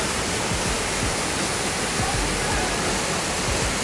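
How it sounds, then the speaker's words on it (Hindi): Neer Garh waterfall near Rishikesh, a loud, dense, continuous roar of falling water with no break, heard close up and filling the whole soundscape. "इस तरफ ये वाटरफॉल है"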